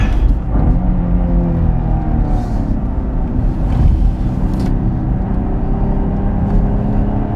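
A 2016 Cadillac ATS-V Coupe on a race track, its engine droning with a steady loud rumble and whir while the car drives at speed, with no talking.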